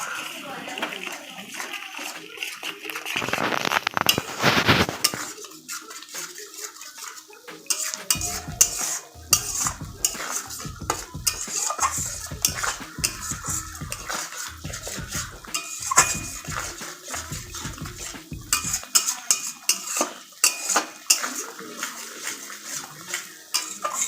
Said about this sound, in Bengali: এখন আমি সবগুলো ভালো করে কষিয়ে দিব